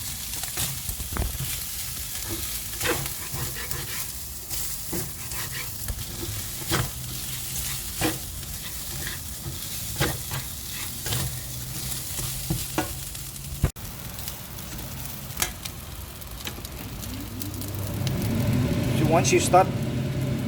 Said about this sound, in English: You add your rice and saute them.